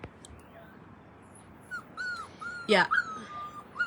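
Puppies whimper and yip in short high rising cries, scattered through the second half over a steady background, with a brief spoken word.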